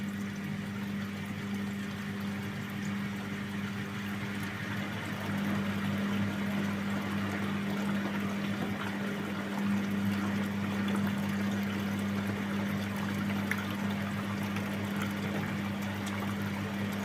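Hot water running steadily into a front-loading washing machine during cleaning, a continuous watery rush with a low pump-like hum, close and even throughout with no talking.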